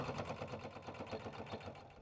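A sewing machine runs a quick, even top stitch along a fabric flap, a soft rapid chatter that stays faint and steady throughout.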